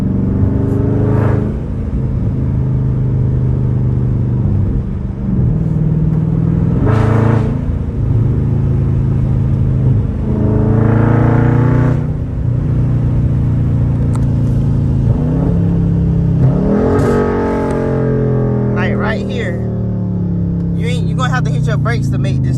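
SRT Mopar car engine in track mode: a loud, rumbling exhaust that repeatedly revs up and drops back while driving, with upshift sweeps, heard close and steady throughout.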